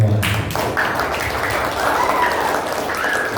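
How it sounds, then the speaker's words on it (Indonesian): Elementary school pupils in an Indonesian classroom clap together in a brief, moderately loud burst of applause, with a few voices mixed in. "Tepuk tangan untuk kita semua."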